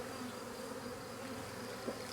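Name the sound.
honeybee swarm buzzing while being shaken into a bucket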